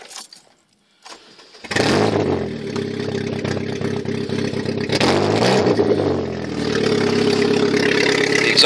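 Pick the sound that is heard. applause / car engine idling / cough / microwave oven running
car engine idling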